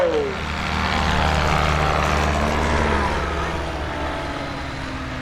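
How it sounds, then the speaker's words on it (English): A Rotax-powered light aircraft runs its engine up for a takeoff at a STOL competition at Oshkosh 2022. The engine note rises quickly at first and then holds a loud, steady propeller drone, heard from nearby outdoors. "These are both Rotax-powered aircraft."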